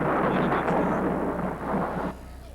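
A loud, close rumble of storm thunder rolls on steadily, then drops off abruptly, with no one talking over it.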